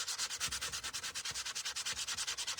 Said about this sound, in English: What did I do with that sandpaper? Right here. I'm going to try to do a little bit more down here.